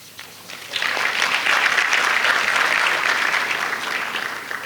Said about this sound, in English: I'm really happy you clap spontaneously